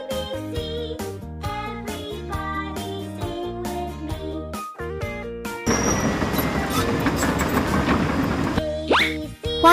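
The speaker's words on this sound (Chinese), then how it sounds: "有轨电车。" A toy tram plays a tinkling electronic melody up close, then switches to a loud, continuous rumbling ride noise with a short whirring sweep near the end.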